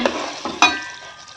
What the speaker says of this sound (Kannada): ಎಣ್ಣೆ ಕುದಿಯುವಾಗ ಕುದೀತಾ ಇರಲಿ ಇದು ನೋಡಿ ಇಲ್ಲಿ ಕುದೀತಾ ಇದೆ